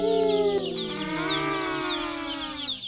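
Young broiler chicks in a barn cheep and peep close up, overlapping high-pitched calls in a steady busy chorus.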